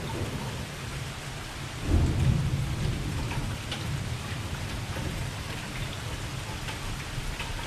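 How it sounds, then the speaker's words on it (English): Heavy rain pours steadily while a low roll of thunder swells up near the start and fades into the downpour. "This is like the fifth thunderstorm that's hit us today."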